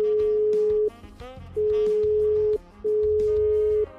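Telephone ringback tone while calling a friend: three long steady electronic tones separated by short gaps, loud and clear, with faint background noise and no talk.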